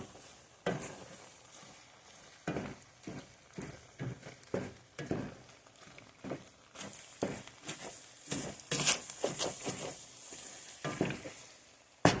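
Box macaroni and cheese being stirred in a pot, with a run of soft, irregular scraping and wet clacking strokes that come steadily and fairly close, with no talking.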